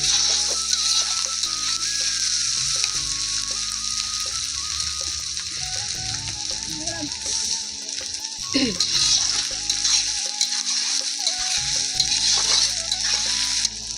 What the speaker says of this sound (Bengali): আদা দেওয়া হয়ে গেছে এবার টমেটো দিচ্ছি দেখো টমেটা দিয়ে দিলাম